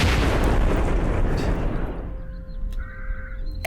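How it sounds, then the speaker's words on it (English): A huge explosion in the video game Cataclysm: Dark Days Ahead, a loud broadband blast roaring for about two seconds before decaying into a quieter rumbling tail with faint high electronic tones. "Huge explosion, stop hacking."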